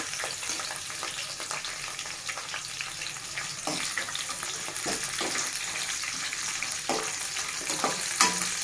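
Peanuts sizzle and crackle steadily in a pan as they fry for mint chutney, a continuous frying hiss with a few soft stirring scrapes and clinks breaking through, moderately loud and close.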